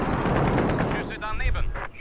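Heavy booming gunfire in Call of Duty: Modern Warfare, loud rumbling blasts in quick succession with a voice briefly audible on top.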